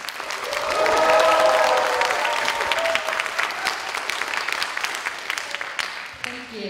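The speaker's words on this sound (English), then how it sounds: "please give a big round of applause to our grand finalists" Audience applause for the finalists of a youth English debate competition, a dense burst of clapping that swells in the first seconds and then slowly thins out, with a few scattered cheers.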